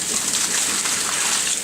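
Potatoes rinsed under running water, a steady close splashing hiss throughout the short stretch.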